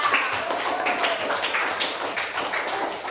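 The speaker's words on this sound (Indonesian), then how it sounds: "beri tepuk tangan kepada kelompok sekolah" Classroom children applaud a school group of students with a dense, steady patter of many hands clapping together for a few seconds, fairly close and without pause.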